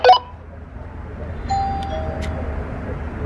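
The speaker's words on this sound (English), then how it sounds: "You mean the doorbell rang?" A Nest video doorbell gives one short, bright electronic chime at the start, then fades into quiet indoor room noise with faint tones.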